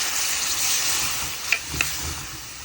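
Broth goes into a sizzling pan of rohu fish curry with beans, potato and tomato, producing a steady close hiss with a couple of sharp spoon-scrape clicks near the end.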